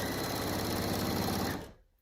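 A sewing machine runs fast and steady, stitching a seam on a pillow made from men's ties, then winds down and stops near the end.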